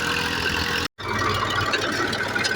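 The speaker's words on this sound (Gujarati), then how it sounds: "ટ્રેક્ટર હાંકીને બાજરી કરવાની ચાલુ." A tractor engine runs steadily in a farm field during millet sowing, giving a close, dense rumble that is broken by a brief dropout.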